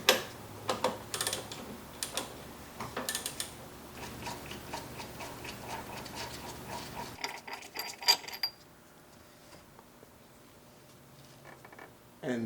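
Metallic ratcheting clicks from removing the crank pulley bolts on a Mercedes M113 engine. The rapid ticks come in bursts for about seven seconds and then give way to quieter, sparse clinks.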